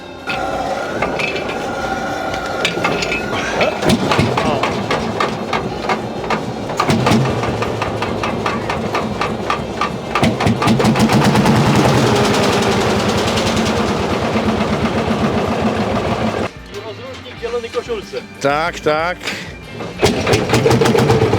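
An old Ursus C45 Lanz Bulldog tractor engine cranks and catches, then chugs loudly with heavy rhythmic knocking and rattles, while people talk nearby; it briefly dips then revs again.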